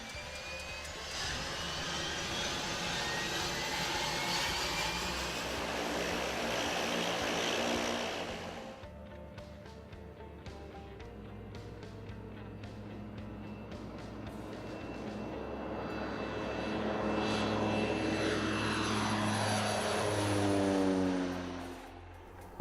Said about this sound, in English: the plane made a big circle and got ready to touch down the floats